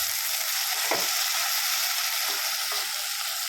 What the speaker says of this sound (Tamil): தக்காளியை வதக்கிறோம்.